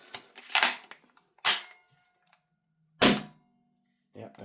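An airsoft MP9 gas blowback gun fires on semi-auto, four sharp, separate cracks with a mechanical clack, spaced about a second or more apart, close and clear in a quiet room.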